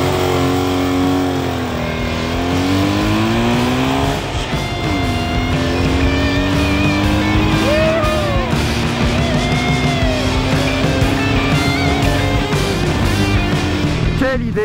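A motorcycle engine on a road trip running and revving continuously, loud and close, with rising and falling engine pitch throughout and some background noise.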